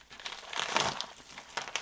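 Plastic packaging for CR123A batteries is unwrapped up close, giving soft, irregular crinkling bursts of thin plastic over about two seconds, with no talking.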